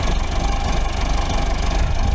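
A snowblower engine drones loud and close at a steady pitch, its rough, unbroken running filling the whole moment in wet, packing snow.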